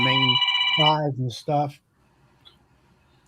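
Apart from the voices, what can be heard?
phone ringing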